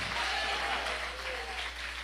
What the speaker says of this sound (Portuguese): Você pode dar um aplauso para Jesus?